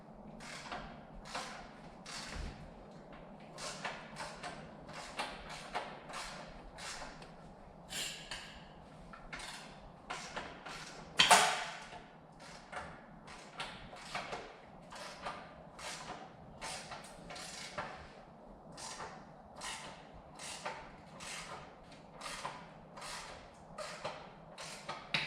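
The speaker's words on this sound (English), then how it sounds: "we're going to go ahead and get this transmission out of the car." Work on removing the transmission from a 2014 Subaru WRX/STI produces a close, steady run of repeated creaking, ratchet-like strokes, broken by one louder thud midway, with no talking.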